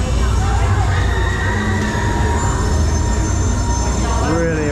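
Baron 1898 roller coaster train at Efteling rolling out toward its pre-lift section: a loud, steady rumble of wheels on track with a rising squeal near the end, over busy crowd noise.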